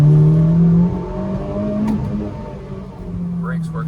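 A 2008 Honda Civic Si with a swapped K24a2 engine pulls hard under acceleration, its steady engine drone rising and holding in pitch before easing off, heard from inside the car.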